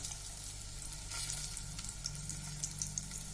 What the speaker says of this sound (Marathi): सर्व साईडनी छान तळून घेऊया